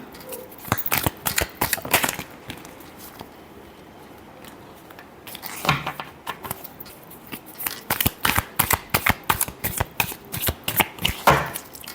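Tarot cards are shuffled by hand in rapid riffling bursts and soft slaps, an irregular flurry with a brief lull midway, close and clear with no speech.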